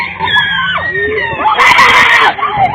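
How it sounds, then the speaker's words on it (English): A person screams loudly and shrilly during a tense police confrontation, with sustained, wavering shrieks close to the microphone and a murmur of other voices underneath. "Stop fucking screaming!"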